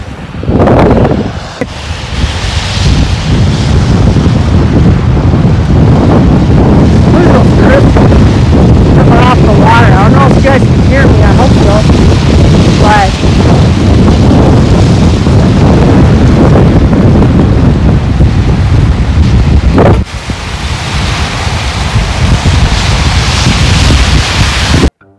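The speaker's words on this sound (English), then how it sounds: "hear the waves?" Ocean waves surge and crash under strong gusting wind that buffets the microphone, a loud continuous roar with rolling surf swells throughout.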